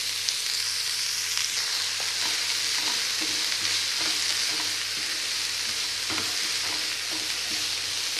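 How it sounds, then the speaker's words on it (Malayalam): Chopped ginger, garlic, green chilli and onion sauté in hot oil, giving a loud, continuous close sizzle with repeated stirring clinks and scrapes throughout, no voices. "ഇഞ്ചി അരിഞ്ഞത്, വെളുത്തുള്ളി അരിഞ്ഞത്, പച്ചമുളക്, സവാള, ഇത്രയൊന്ന് നമുക്ക് വഴറ്റിയെടുക്കാം."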